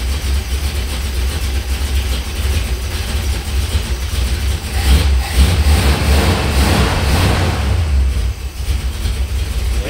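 A 1964 Dodge 440 engine runs loud and close with a rough, throbbing rumble, swelling in a couple of revs before settling back toward idle.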